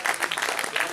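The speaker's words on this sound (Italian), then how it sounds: "facciamo ancora un applauso ai nostri amici, Alice Montanari" Audience applause after a bel canto concert of Verdi, Puccini and Neapolitan song, a brief burst of dense, steady clapping from a nearby crowd.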